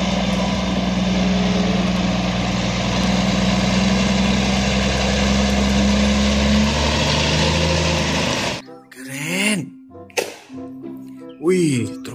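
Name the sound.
container truck with trailer, engine idling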